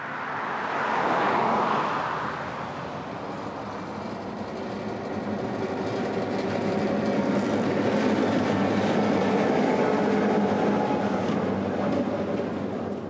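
A Florida Northern Railroad short-line train rolls slowly along 10-mile-per-hour trackage under overhead power lines, a steady rumbling drone with faint clicking wheels that swells early, eases, then builds again as it passes close by.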